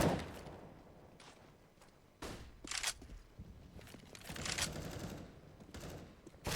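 AK rifle fire in a Counter-Strike match, with bursts of crisp shots and clattering reports layered over a steady game hum, irregular and fairly close, with no voices.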